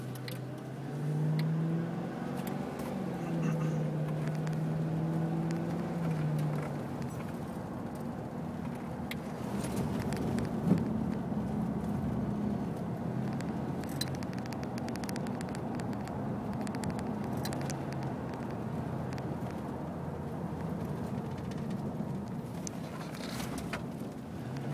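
A race car circles the track at Summit Point Motorsports Park, its engine a steady mid-distance drone with faint rises and falls through the lap, with occasional bird chirps in the background.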